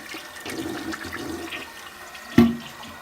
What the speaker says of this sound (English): You can flush